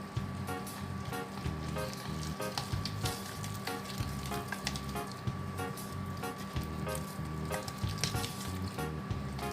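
Steady crackling sizzle of a mixture frying in a pan, with faint scraping stirs now and then, close and continuous with no talk.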